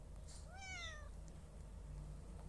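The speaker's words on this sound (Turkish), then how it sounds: "Arkadaşlar ben kediyi buldum" A single cat meow rises and falls in a video game, clear but moderately quiet over a low steady background hum, with no voices.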